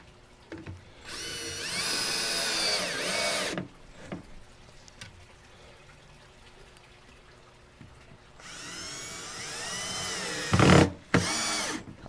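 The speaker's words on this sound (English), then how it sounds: "now I hit it with the regular wood screws" A power drill drives long wood screws into a scrap-wood fish room cart, two loud whirring bursts with a quieter stretch of small handling noises between them and a final short burst.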